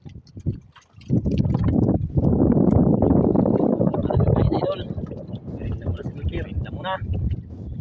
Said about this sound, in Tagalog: Malakas na naman ah. Ang hangin.